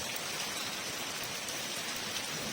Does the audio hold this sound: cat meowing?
no